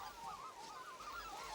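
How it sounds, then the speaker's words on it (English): A large flock of red-billed whistling ducks over a swamp at dawn, giving a continuous chorus of overlapping, wavering calls at moderate distance with no talking. "The capybaras scare great flocks of red-billed whistling ducks whose wing beats sound out over the"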